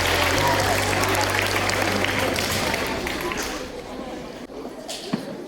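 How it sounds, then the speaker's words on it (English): Audience at a secondary school awards ceremony applauds for a class champion, a dense burst of clapping that starts loud and gradually thins and fades, with a low hum and a brief voice early on. "Round of applause to the 1C3 champion."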